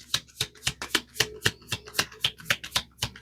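Tarot cards being shuffled by hand, a rapid run of crisp riffling flicks in a steady rhythm, close and fairly loud, with no talking.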